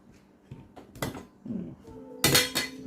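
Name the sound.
ladle scooping curry from a pot to taste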